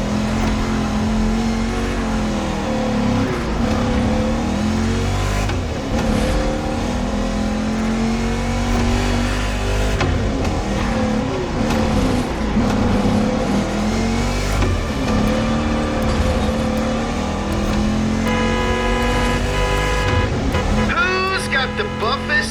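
Chevrolet Camaro muscle car engine revving hard in the racing game The Crew Motorfest, a loud continuous roar rising and falling with acceleration, mixed with game music and other cars, while people talk over it.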